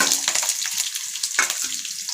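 Onion, curry leaves and green chili sizzle in hot oil with a soft, steady crackle, broken by a few brief stirring clinks and scrapes, heard close and without talk.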